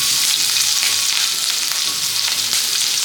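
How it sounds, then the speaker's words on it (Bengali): Green chillies sizzle steadily in hot white oil and butter, a loud continuous frying hiss with no talking. "সাদা তেল আর যে বাটার দিয়েছি এর মধ্যে গরম হয়ে গেছে, এর মধ্যে দিয়ে দেবো হচ্ছে কাঁচা লঙ্কা কেটে নিয়েছি সুন্দর করে"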